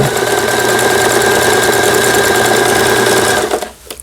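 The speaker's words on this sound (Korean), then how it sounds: "풀리지 않도록 지그재그 바느질로 감침질을 해주는 이런 기능이 되겠습니다." Lion home sewing machine stitching a zigzag overcast seam along fabric edges, a loud steady rapid mechanical chatter running continuously before stopping abruptly near the end.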